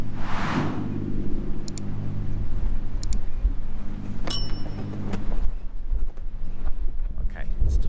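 Blustery wind in Stockholm buffets the microphone with a low, constant rumble, while a faint voice and scattered clicks come through beneath it.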